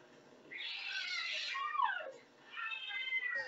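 A cat meows in two drawn-out, wavering cries separated by a short pause, fairly close and clear against a quiet background.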